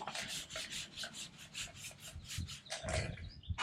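An applicator pad rubbing trim coat onto a plastic bumper, giving soft, rapid back-and-forth swishing strokes in a steady rhythm, close but faint.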